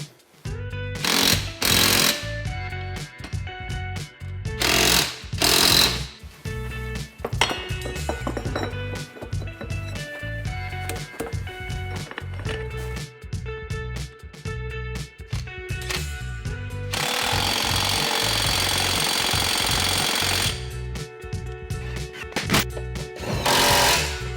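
A power tool bolts a tripod and tail shaft together on a vehicle build, loud rattling impact bursts with metallic clinks and pauses between runs, one long sustained buzzing stretch near the end.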